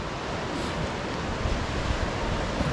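Gentle sea waves at Praia Grande beach in Arraial do Cabo give a steady, broad wash of surf mixed with wind noise, continuous and moderately loud with no talking.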